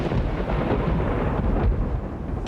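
Thunder crashes in a mountain storm, heard as a loud, sustained, deep rolling rumble that fills the whole moment without a break and swells slightly toward the end.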